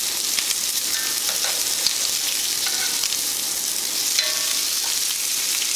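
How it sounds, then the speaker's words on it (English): Bacon sizzles steadily in a hot pan as part of a full breakfast, a dense close crackle with a few brief clicks and scrapes as strips are turned, no talking. "time to flip the bacon"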